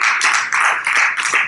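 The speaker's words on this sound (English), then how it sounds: "Y'all should clap for that" A church congregation claps during a sermon, producing a short, dense burst of applause that surges in waves.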